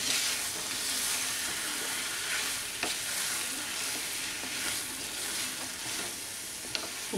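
Potatoes and green papaya fry with sugar and a splash of water in a pan, a dense, steady sizzle under repeated soft scrapes and clicks of a stirring spoon, close and continuous.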